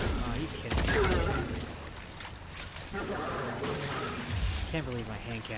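Hand cannon fire in the video game Destiny 2 crackles in rapid overlapping bursts amid a dense, busy battle mix, with impacts and clatter carrying on without a break.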